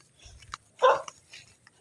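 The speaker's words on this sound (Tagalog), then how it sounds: "Tinatahulan ako ng aso, ay." A dog barks at someone passing near a banana grove, giving a sharp bark and a few shorter yips amid quiet outdoor ambience.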